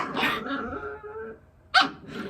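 A puppy lets out two short, close barks with a pause between them, the second one sharper and louder.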